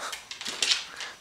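A dog makes a few soft, high whimpering whines close by, broken into short uneven bursts.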